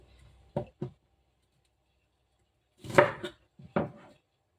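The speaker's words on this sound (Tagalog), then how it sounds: "Hiwain natin dito guys. So, into cubes." A knife chops squid into cubes on a board, giving a few sharp, close cuts in two short pairs separated by a long pause, with no talk.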